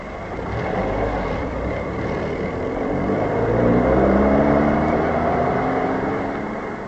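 A car drives along with a steady, moderately loud engine drone and road rumble that swells slightly midway, with no talking.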